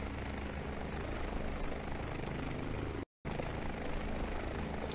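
A Dani D-139 helicopter taking off in a video game, its floats detaching, gives a dense, steady rotor and engine roar that continues unbroken apart from a momentary dropout.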